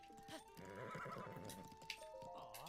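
A horse in the video game Zelda Breath of the Wild neighs and whinnies in a long wavering call, with clip-clop hoofbeats and game music beneath, fairly quiet overall.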